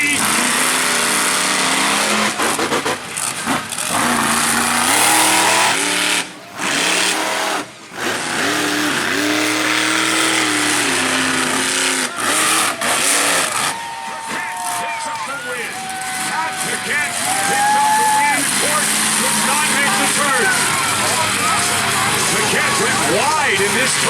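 Racing trucks in J-hook style racing at an outlaw motorsport show in Brandon, Manitoba, engines revving and roaring loudly and continuously, rising and falling as they pass, with an announcer talking over the noise throughout.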